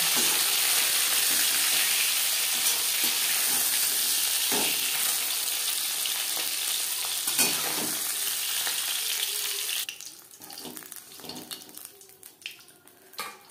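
Whole cumin seeds hit hot oil left over from frying snakehead fish and crackle in a loud, dense, continuous sizzle. About ten seconds in it drops to a lighter, patchier crackle, and no one speaks.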